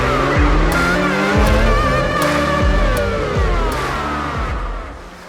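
A Yamaha XSR 900 cafe racer motorcycle revs hard and loud, its engine pitch rising and dropping repeatedly through quick gear changes, close and dominant.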